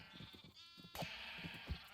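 Minecraft farm animals bleat faintly and repeatedly in short, overlapping calls from a crowded livestock pen. No voices are heard.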